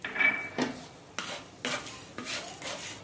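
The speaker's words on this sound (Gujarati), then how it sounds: "અડધી ચમચી તેલ અને આખા ધાણાને શેકી લેશું" Whole coriander seeds roast in half a spoon of oil in a pan, with several close stirring and scraping strokes against the pan and a soft sizzle between them.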